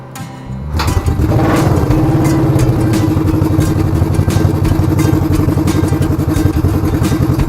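A 1973 Honda CL350 motorcycle is kicked over with its kickstart lever and fires up, a short thump followed by a loud, rapid, steady idle putter close by.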